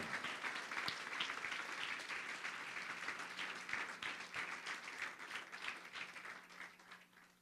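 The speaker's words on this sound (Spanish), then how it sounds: "Aplaude al Rey si crees esa palabra." Church congregation applauding during a sermon, a faint but sustained wash of many hands clapping with a low hum beneath, tapering off toward the end.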